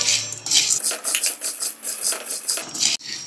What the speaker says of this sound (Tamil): இப்போ அதே மாதிரி மிளகை நம்ம வறுத்து எடுத்துக்கலாம்.